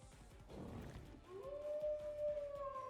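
Divine Dogs from the Jujutsu Kaisen Phantom Parade video game let out a long rising howl that holds steady and close, preceded by a brief rumbling burst, with game music faintly underneath.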